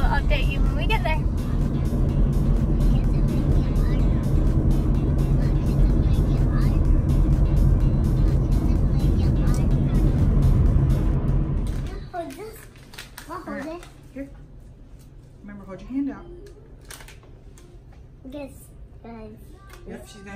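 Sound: car driving on the road

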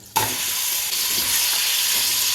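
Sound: marinated beef sautéing in oil with spices

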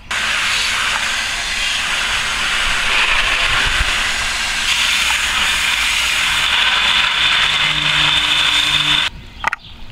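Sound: paint brush spinner spinning out a brush

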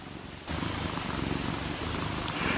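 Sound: cat purring

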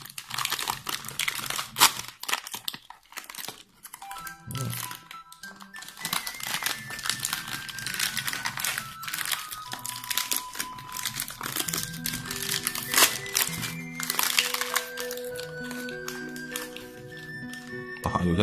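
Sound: opening wrapper of brown biscuit from Dutch military ration

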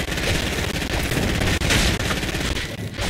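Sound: gunfire from a Fortnite video game gun fight

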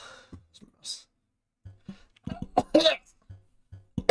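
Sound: series of violent coughs

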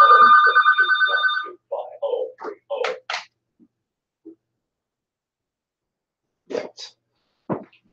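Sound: telephone ringing

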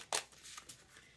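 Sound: shuffling playing cards by the sides

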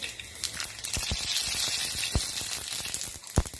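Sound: mustard seeds spluttering in hot oil

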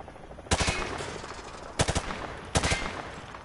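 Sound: rifle gunfire at targets in Call of Duty MW2 video game

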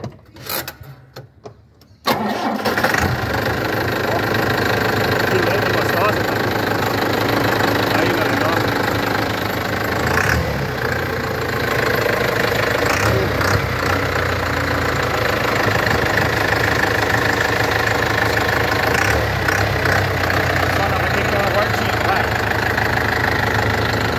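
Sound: pickup truck engine starting and idling

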